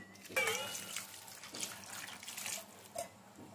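Water poured from a vessel into a curry pot, a brief gurgling splash near the start followed by faint kitchen clatter and a soft thud, with no one speaking.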